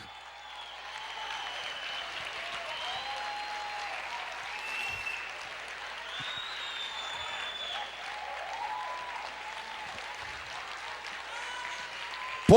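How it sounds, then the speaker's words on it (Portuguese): A church congregation applauds in a large hall, sustained clapping steady for about twelve seconds, moderately loud and diffuse, with cheering voices and shouts mixed in above the clapping. "Pode aplaudir, porque hoje estão caindo cadeias."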